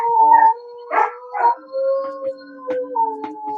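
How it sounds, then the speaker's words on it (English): A pet dog howls like a wolf in a string of drawn-out, wavering tonal howls broken by short yips, close and fairly loud, with no talking. "He actually howls a lot."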